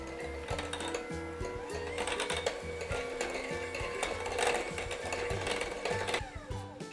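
Concentrated Mountain Dew is mixed into cupcake batter with a steady mechanical whir and a fast rhythmic clatter that keeps going at a moderate level, with no voices.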